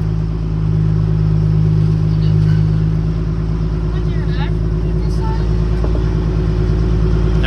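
A shop project vehicle's engine runs steadily at idle with a deep, loud, constant rumble, while people talk nearby.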